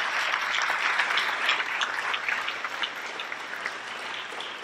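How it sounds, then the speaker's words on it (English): Sustained applause from a large crowd, steady and dense clapping that carries on without pause for several seconds. "let's pause for a round of applause"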